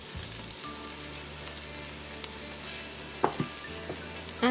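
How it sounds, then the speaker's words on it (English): Mini bell peppers and celery sautéing in a hot pan give a steady close sizzle, with a few soft utensil scrapes and taps near the end. "we're going to allow this to saute until it's tender, crisp"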